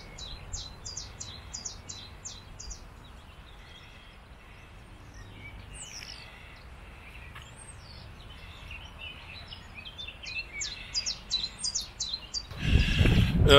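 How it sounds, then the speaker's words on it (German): Wild birds sing outdoors by a nature reserve hut at old clay pits near Heppenheim, with repeated chirping phrases and scattered calls at moderate distance, and a louder rustling burst near the end. "Und ein paar Vögel habt ihr gerade gehört oder ich blende es euch jetzt ein."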